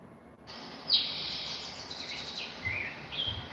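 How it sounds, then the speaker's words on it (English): Recorded tropical birds sing through a speaker, a continuous layer of high chirps and whistles over a soft hiss, moderately quiet and without talking. "I think you'd like to hear some beautiful tropical birds relaxing, right?"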